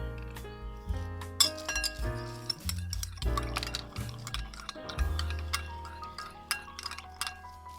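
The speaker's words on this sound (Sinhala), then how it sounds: "දැන් මම කිරි කෝප් එකට චුට්ට දාලා ජෙලටින් මේස හැඳි දෙකක් දිය කරනවා" A spoon clinks rapidly against a cup while stirring gelatin into a little milk, bright metallic taps in quick irregular bursts over a low steady hum.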